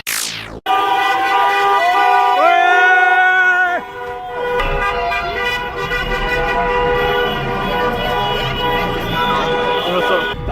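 Car horns blare in long sustained blasts in celebration of a World Cup victory, several overlapping at once, loud and continuous amid street noise, with voices faintly underneath.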